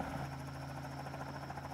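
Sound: helicopter in a video game

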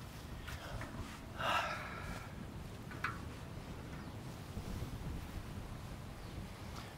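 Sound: wind

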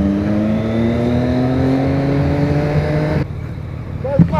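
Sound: vehicle accelerating beside a cyclist

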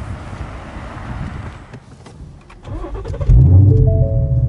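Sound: Ford Shelby GT350 engine warm start on E85

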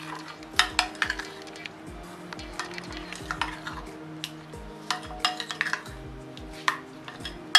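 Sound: mixing fruit cream in a bowl

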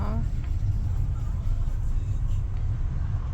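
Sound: car pulling away from stop

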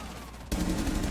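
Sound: gunshot in the video game Rainbow Six Siege

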